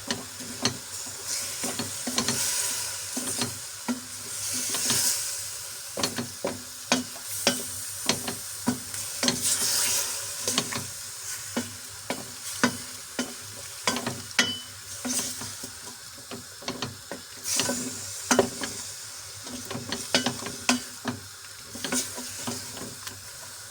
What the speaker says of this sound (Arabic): هون راح نضيف كل التوابل ونحركهم مع بعض